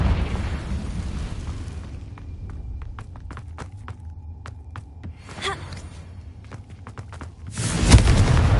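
Confringo blasting spell in the Hogwarts Legacy video game, a loud explosive burst erupting near the end after sparse clicking footsteps and a quiet stretch.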